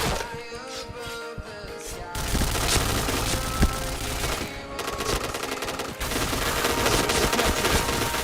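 Rapid automatic gunfire from the shooter video game Point Blank, dense rattling bursts with thuds and a sharp shot, loud and continuous with brief breaks, under faint game background.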